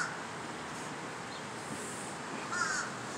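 A black crow caws outdoors near a dry tree, a few faint calls heard at a distance over steady background noise.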